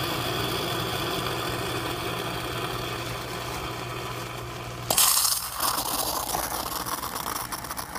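A Lavazza espresso machine's steam wand purges in a loud hissing burst partway through, cutting through a steady mechanical hum from the machine that runs throughout.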